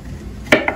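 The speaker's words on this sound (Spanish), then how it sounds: "voy a empezar a rebanar la cebolla" A knife slices through an onion on a cutting board while a broth cooks nearby: two sharp cuts, a louder one then a lighter one, close up over a quiet kitchen background.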